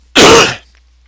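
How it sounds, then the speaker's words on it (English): A single sharp cough or throat-clearing right into a close microphone, loud and abrupt, lasting about half a second before fading to silence. "we're going to start off by coughing into your ear like that, sorry"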